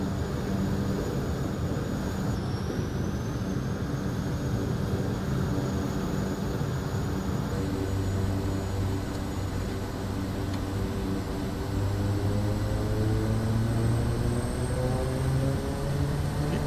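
A bush plane's engine runs at full throttle on a grass strip in Microsoft Flight Simulator 2024, a constant loud droning roar with steady propeller hum and rising tonal whine, continuous and close with no talk.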